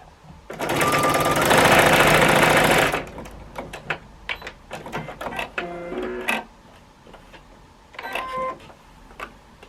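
A sewing machine stitching quilt fabric runs in one loud, rapid burst of about two seconds, then falls silent. Clicks and handling of the fabric follow, close up.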